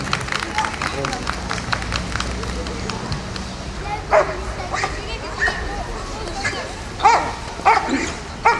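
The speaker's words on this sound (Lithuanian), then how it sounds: "Vėlgi šuo patikrina visas dėžutės." A police dog barks repeatedly in quick bursts close by during a search, mixed with people talking and general commotion.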